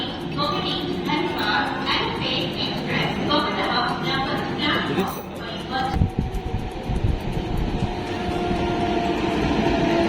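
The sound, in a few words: train on the Araku line, moving slowly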